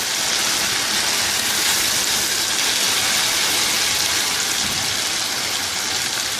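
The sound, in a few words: water being poured into a cooking pan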